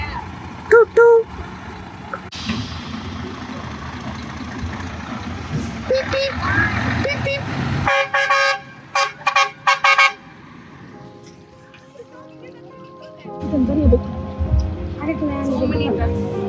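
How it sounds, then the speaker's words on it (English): A truck horn toots in several short, loud bursts between stretches of talking and engine rumble, in Burundi. "He will honk now."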